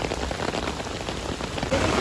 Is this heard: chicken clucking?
no